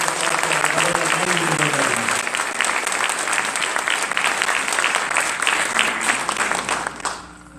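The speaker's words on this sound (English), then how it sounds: "let's have a quick round of applause for" A quick round of applause for the governor from the audience at a Delaware Secretary of State swearing-in ceremony, steady dense clapping that holds for about seven seconds before fading out, with a voice briefly over it at the start.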